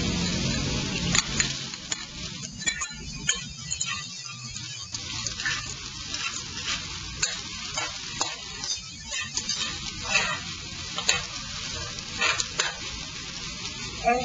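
Garlic and onion dropped into heated oil in a pan, sizzling and crackling steadily up close with frequent stirring scrapes and clinks, no voices.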